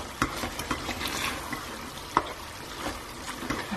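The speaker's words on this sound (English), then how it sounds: "Mix that through." A spoon stirs garam masala through tender beef curry in a pot, making scattered scraping clicks and soft knocks over a faint simmering sizzle, with one sharper clack midway.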